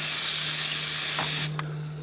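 A steady, loud spray-paint aerosol hisses continuously for about a second and a half during hydro dipping, then cuts off, leaving a faint hum and a small click.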